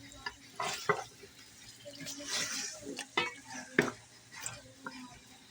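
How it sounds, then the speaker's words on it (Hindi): Chicken fries in oil in a karahi with soft sizzling under scraping stirs and sharp clinks of a spoon against the pan, irregular and close, with faint talk in the background. "ऑयल और डाल लिया है हमने ताकि चिकन हमारा अच्छी तरह से भुन जाए"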